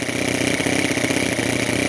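A homemade 7cc two-cylinder Otto engine idles near 3,500 rpm, a steady, loud, close, buzzing drone that holds without pause, with no voices over it.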